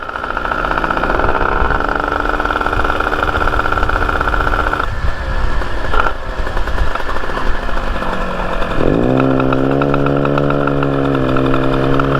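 A loud two-stroke motorcycle engine drones steadily and close, its pitch dropping and then climbing again as it revs, with a magneto charging issue sapping its power.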